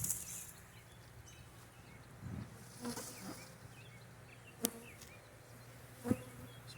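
Honey bees buzz around an opened hive during a spring inspection, a soft, continuous hum close by, with a few sharp clicks and knocks of handling equipment over it.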